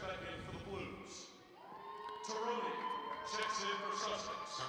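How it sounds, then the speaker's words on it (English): Small cheering section at a women's college basketball game, Sussex vs BCC, whooping and cheering in a gym, rising after a quieter moment, with a commentator talking over it. "She got her own little cheering section here."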